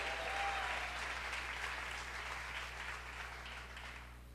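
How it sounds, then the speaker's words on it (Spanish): Church congregation applauding, a faint, steady wash of many hands clapping together over a low constant hum, easing slightly toward the end. "¿Cuántos le dan un aplauso al Rey de Reyes, al Señor de Señores?"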